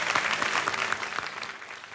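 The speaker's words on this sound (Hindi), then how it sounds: "तालियां बज जाएं जोड़ीदार के लिए" An audience claps for a contestant pair on a televised quiz show, a brief, dense burst of applause that holds steady and fades slightly at the end.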